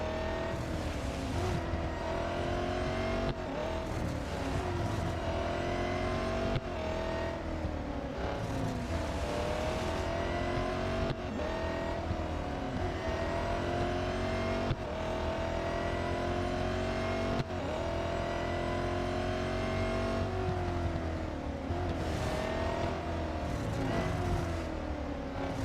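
Race car engines roar in Real Racing 3, a continuous loud drone with repeated revving rises and gear-shift breaks as cars overtake, with no talk over it.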